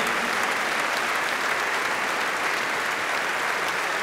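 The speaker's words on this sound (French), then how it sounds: "je voudrais qu'on applaudisse très fort toute l'équipe technique" Loud, dense applause from a large audience at the closing plenary of a French business clubs convention, honoring the backstage technical crew; an even, continuous roar of clapping filling the room without pause.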